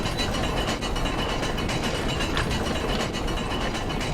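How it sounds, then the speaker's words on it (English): Elevator descending in the game Astray through Lovecraftian caverns, a steady mechanical grinding and ratcheting rattle, loud and continuous with rhythmic clicks throughout, no voices. "Lead me down, dear elevator."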